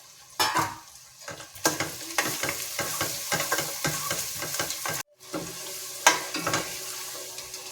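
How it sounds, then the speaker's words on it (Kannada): Small-cut carrots fry in oil as a spatula scrapes and stirs in repeated close strokes over a steady sizzle, with a brief break near the end. "ಈ ಥರ ಚಿಕ್ಕದಾಗಿ ಕಟ್ ಮಾಡ್ಕೊಂಡಿರೋ ಕ್ಯಾರೆಟ್ ಎಲ್ಲದನ್ನು ಎಣ್ಣೆಲೇ ಫ್ರೈ ಮಾಡ್ಕೋತಾ ಇದ್ದೀನಿ"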